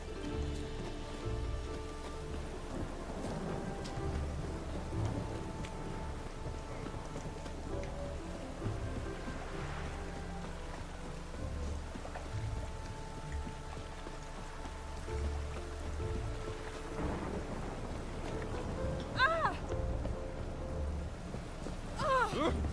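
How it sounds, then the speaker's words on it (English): Steady rain pattering on surfaces in The Witcher 3: Wild Hunt, a continuous soft wash with low rumbling underneath and faint game music or tones mixed in, heard at moderate level without clear talk. "It's really raining."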